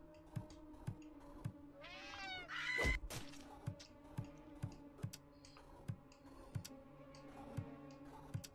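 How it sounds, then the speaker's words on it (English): Cats meowing in the video game Friday the 13th: Killer Puzzle, a few rising, wavering meows in the middle over a quiet bed of regular ticking clicks, with no talk. "Oh, cats."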